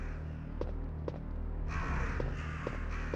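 Crows cawing in the video game Resident Evil Director's Cut, several harsh calls spaced apart over a low droning ambient background, fairly quiet.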